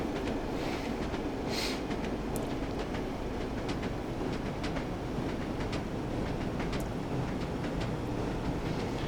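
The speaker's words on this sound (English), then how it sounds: "the clickety-clack as you're going over" A train in the Train Sim World game running over a Northern Trans-Pennine line gives a continuous rumbling roll, with rhythmic clickety-clack wheel beats over rail joints and occasional faint squeals, steady and close throughout.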